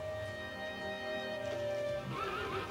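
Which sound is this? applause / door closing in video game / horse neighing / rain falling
horse neighing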